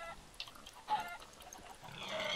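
Chicken clucking in a Minecraft-style game on a PvP server, a few short soft clucks scattered across the moment over a faint background hiss, with no talking.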